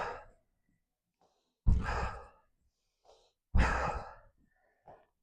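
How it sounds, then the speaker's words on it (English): Two deep, breathy exhales during a breathing exercise in an energy-boosting movement flow, each a long airy release spaced a couple of seconds apart, close and quiet with small breaths between. "Breathe. Exhale on the way down."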